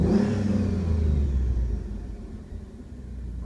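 A low-mileage Chrysler car engine revs up loudly, a dense low rumble that swells and then eases back to a steadier idle, with no talking over it.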